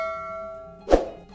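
A single bright notification bell ding, a short sound effect with a clear ringing tone that lingers faintly after the strike, heard alone with no talking.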